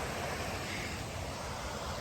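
A mountain creek on Venable Trail in Colorado rushes steadily down a steep drop, a dense, continuous and fairly loud broadband roar with no break and no voices.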